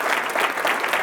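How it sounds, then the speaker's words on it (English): An audience at the 2018 State of the City address in Elyria breaks into applause, a close, dense burst of many hands clapping continuously for about a second. "And I think they deserve a round of applause."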